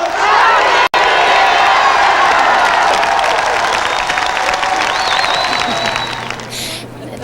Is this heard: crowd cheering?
yes